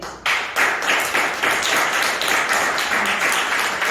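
A church congregation claps during a sermon, bursting in suddenly and then settling into loud, rhythmic, near-unison beats that pulse steadily throughout.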